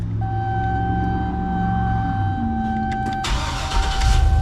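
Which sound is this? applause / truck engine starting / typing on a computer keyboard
truck engine starting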